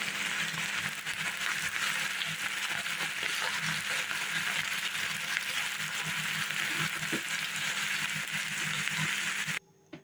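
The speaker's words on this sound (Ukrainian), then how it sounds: "Далі додаю цибулю і смажу, щоб цибуля була золотистого кольору." Steady, loud sizzling of onion frying in a pan, continuous crackle throughout, cutting off abruptly near the end.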